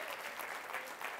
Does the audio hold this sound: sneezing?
no